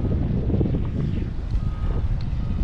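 Gusty wind buffets the microphone outdoors during a flight of an Eachine E120S beginner RC helicopter, making a dense, loud, low rumbling roar with no clear breaks.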